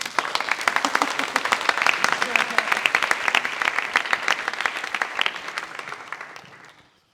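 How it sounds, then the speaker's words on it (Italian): A crowd in a talk audience breaks into lively, dense applause that holds steady for several seconds before tapering and fading out near the end. "Facciamo un applauso a chi l'ha gonfiato."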